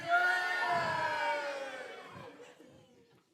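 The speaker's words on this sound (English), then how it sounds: "If we think Dave is the king, can I have a cheer?" A crowd cheers and whoops together in a loud burst at a church talk, the shouting rising at once and then tapering off over a few seconds.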